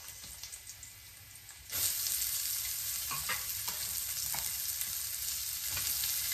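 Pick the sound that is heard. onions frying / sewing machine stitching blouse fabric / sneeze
onions frying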